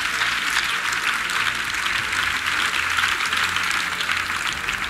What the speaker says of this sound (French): Acclamation. Clap offering.